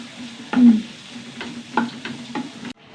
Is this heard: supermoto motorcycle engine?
no